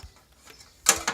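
Parts of a Fermor brazier being screwed together: faint fiddling, then a short sharp metallic clack followed by a second click, close and brief.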